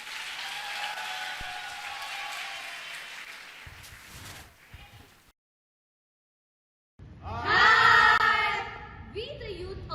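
A church hall audience at a parish youth dance event applauds and cheers, a broad clapping wash that fades, drops to silence, then returns louder with bright shouts and whoops.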